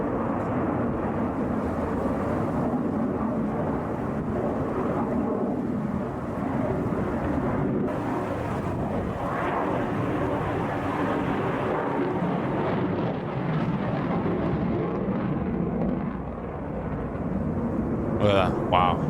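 A Su-57 fighter jet performs at an air show in China, and its broad, roaring jet noise runs continuously throughout, mixed with crowd or commentary voices.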